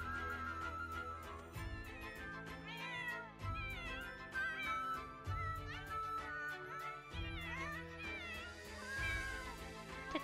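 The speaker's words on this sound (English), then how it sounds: "Such an adorable kitty cat." A cat meows repeatedly in drawn-out, wavering cries over a background of music, the meows coming in several bursts across the span.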